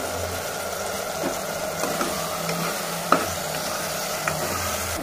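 A spoon stirs turmeric, coriander powder and chili powder into cauliflower rice in a pan: a steady soft sizzle and frying hiss with gentle scraping strokes and a few small clinks, close by and without talk.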